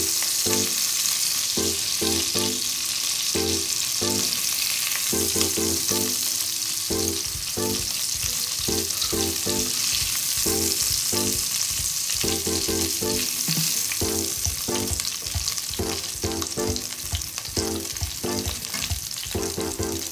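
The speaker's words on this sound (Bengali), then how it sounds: "চিংড়ি মাছগুলো ভাজা হয়ে গেছে" Shrimp fry in hot oil for a Bengali chingri vuna, a loud continuous sizzle broken by regular rhythmic stirring or spatula strokes throughout, with no talk.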